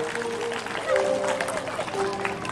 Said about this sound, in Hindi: एक बार जोरदार तालियां इस बच्ची के लिए आप बजाएं।